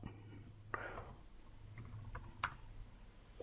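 Quiet computer keyboard typing on a Linux machine: a few sparse, soft key clicks with gaps between them, heard faintly over low room hum.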